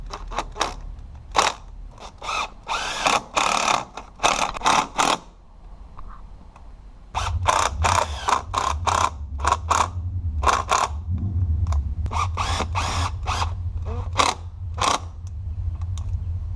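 A power drill drives 3-inch screws into an exterior door threshold sill plate, giving bursts of whirring and clicking motor noise with short pauses and a deeper hum in the second half. No one speaks.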